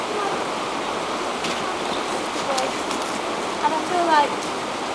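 River water rushing over stones at a stone circle, a steady broadband wash with no breaks, with faint birdsong and a brief spoken word on top.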